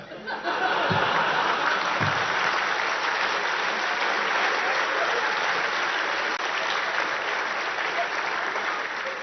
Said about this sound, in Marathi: उपस्थितांनी जोरदार टाळ्या वाजवल्या